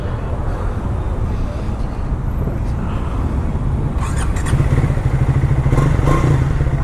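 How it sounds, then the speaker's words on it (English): A Triumph Thruxton 400 motorcycle engine runs on a city test ride, a steady close rumble with a busier, slightly louder patch later and some clattering alongside, with faint speech in the background. "Let's start the test ride of Triumph Thruxton 400."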